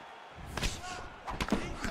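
A punch landing on a guard in a UFC 4 kickboxing bout, a short dull thud among several soft impacts, with crowd and arena noise underneath and a commentator talking.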